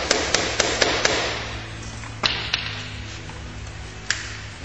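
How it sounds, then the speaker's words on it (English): A hammer taps a screwdriver to loosen a stuck screw on a GY6 scooter: a quick run of five sharp metallic taps, then a few isolated taps, over a steady low background hum. "get the proper size screwdriver, just give it a couple of taps."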